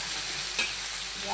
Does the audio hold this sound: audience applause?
no